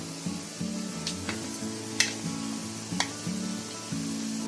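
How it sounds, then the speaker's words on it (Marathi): Veg pizza puffs frying in oil in a pan give a steady close sizzle, with occasional sharp ticks and pops from handling the pieces. "असे पॅन मध्ये घेतले ना की एकाचे एक पाठोपाठ टाकायला बरे पडतात तळायला."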